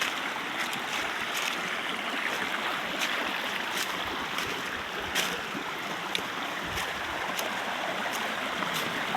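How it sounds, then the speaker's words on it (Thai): A natural stream in a shaded forest flows strongly, giving a steady, close rushing and splashing of water that continues without pause and with no talking. "น้ำตามธรรมชาตินะครับเนี่ยไหลแรงกันดู"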